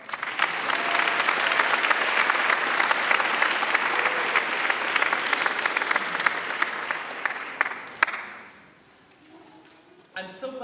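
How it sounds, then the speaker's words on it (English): Dense applause fills a church as a concert audience claps for choir staff, loud and sustained for about eight seconds before dying away, then a voice begins speaking near the end. "Will you please give a round of applause to them?"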